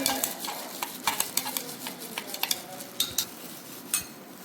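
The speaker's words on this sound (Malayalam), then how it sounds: "നമ്മൾ ഇതിലേക്ക് കോഫിയുടെ ഫ്രാഗ്രൻസ് ഓയിലാണ് കേട്ടോ ആഡ് ചെയ്ത് കൊടുത്തിട്ടുള്ളത് ഗോട്ട് മിൽക്കിന്റെ ബേസിലോട്ട് നന്നായിട്ടൊന്ന് മിക്സ് ചെയ്ത് കൊടുക്കാം നമുക്ക്" Melted goat milk glycerin soap base with coffee fragrance oil being stirred in a container, giving a quick irregular run of close clinks and scrapes with soft swishing between, with no voices.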